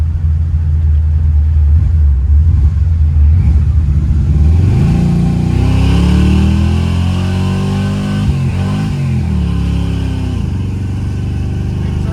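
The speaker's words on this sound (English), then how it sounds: "Have a hell of an exhaust leak." An old Monte Carlo car engine with a bad exhaust leak revs and rumbles loudly, its pitch rising and falling through the gears, with a raspy, sputtering exhaust tone throughout and no talking.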